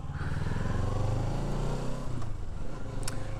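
A motorcycle rides along a road in Quebec, its engine droning steadily close by with wind rush, easing off toward the end, followed by a couple of brief clicks.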